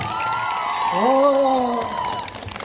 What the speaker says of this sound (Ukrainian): А де оплески?